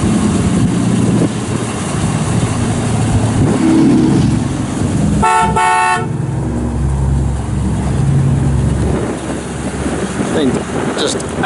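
A 1988 Chevrolet Monte Carlo SS in excellent original condition with replaced mufflers idles quietly, a low steady engine hum under wind and someone talking, with a short sharp beeping burst partway through.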